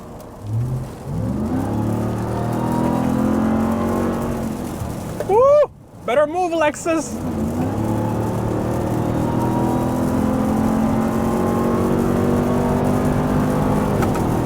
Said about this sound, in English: You forget how fast this truck is.